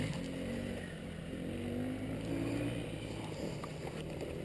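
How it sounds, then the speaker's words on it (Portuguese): A motorcycle damaged in a crash, with a broken radiator, idles and runs steadily while being tested, its low engine hum continuous and fairly close with slight pitch shifts. "Vamos ver se a moto vai, né?"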